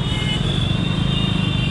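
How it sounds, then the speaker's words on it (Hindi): Busy street traffic with many battery rickshaws at the Maidagin market crossing. A continuous, close wash of engine and road noise keeps up with no break. "ट्रैफिक ज़्यादा इधर, बैटरी रिक्शा काफ़ी होती है इधर, ज़्यादा होती है।"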